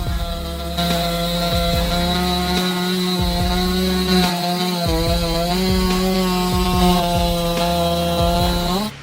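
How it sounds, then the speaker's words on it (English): Stihl MS-661 chainsaw cutting through wood, a loud steady high-revving engine whine held throughout with slight pitch dips as the chain bites. "Which MS chainsaw cuts wood the fastest? First, the MS-661."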